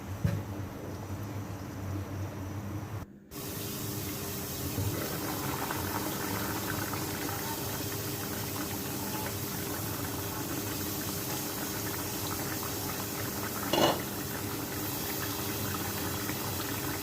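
Rooster curry simmers under a lid after hot water is added, giving a steady, dense bubbling hiss with a low hum beneath, continuous and close, with one short break near the start and no speech.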